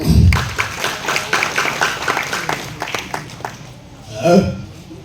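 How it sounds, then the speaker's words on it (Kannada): Audience applause at a live comedy stage show in Bidar, a dense, continuous wash of clapping close by with crowd voices mixed in, swelling again briefly near the end. "ಜೋರಾದ ಚಪ್ಪಾಳೆ"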